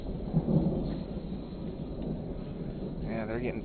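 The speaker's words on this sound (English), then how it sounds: "it's a big old storm coming through" A lightning storm over Beatrice, Nebraska sends low rumbling thunder over steady rain. People talk quietly over the storm's background roar.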